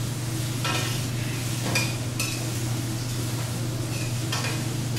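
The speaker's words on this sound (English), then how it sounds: "Okay, sweating these. They don't have to caramelize, we're sweating them." Chopped onion, celery, leeks and carrots sweating in a pan, with a soft steady sizzle beneath occasional scrapes and clinks of a utensil stirring the vegetables.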